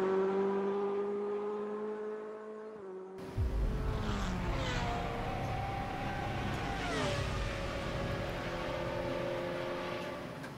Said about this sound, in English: This was a lap of Shanghai with the Royal Motorsport Chevrolet via WTCC.